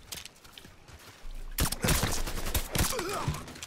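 A burst of rapid pistol gunfire in Mafia 3 crackles loudly after a quieter stretch, several quick shots in a row amid other noise.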